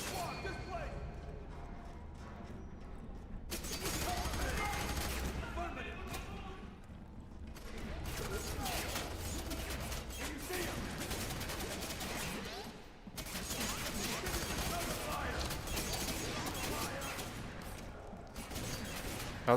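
Rapid gunfire aimed at the player in a Roblox game, bursts of sharp cracking shots in several loud volleys over busy game sound, with a brief lull in between.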